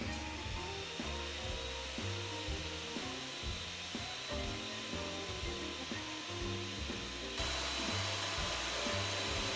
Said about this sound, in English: Not like this blade, which is very dull and is cutting very slowly.